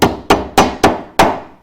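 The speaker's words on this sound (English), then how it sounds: "Malleability says I can hammer it into a thin sheet." A hammer pounds a sheet of aluminum foil five times in a steady rhythm, each sharp, close strike ringing briefly before fading.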